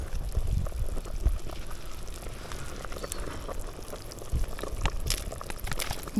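Fish soup simmering in a pot over an outdoor campfire, bubbling steadily with soft gurgles and pops, close and continuous throughout.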